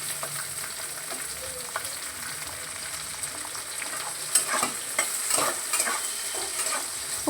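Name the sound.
onion added and stirred in frying pan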